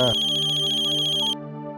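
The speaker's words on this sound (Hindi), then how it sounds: "मीनू का फोन है। तो उठा लेना।" A loud electronic phone ringtone plays a bright, repeating melodic tone, then cuts off abruptly, leaving a fainter lingering hum.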